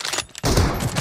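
Rapid burst of gunfire in the mobile battle royale game BGMI: a few close, sharp shots followed by a dense, loud volley of overlapping fire with no talk.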